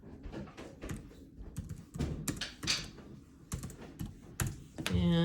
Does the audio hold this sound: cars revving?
no